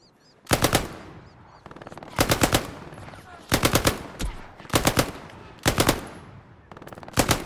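Six loud, separate bursts of automatic machine-gun fire from an MG in the WWII shooter Hell Let Loose, in a daytime British offensive at El Alamein. Each burst lasts about half a second and comes at a steady, roughly one-second interval.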